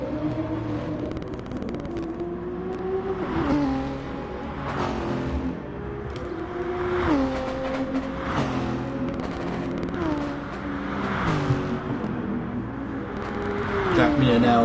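GT3 race cars, including a Nissan, lap Bathurst in a racing video game, a steady engine whine rising and falling through gear changes and repeated upshifts, heard under continuous commentary.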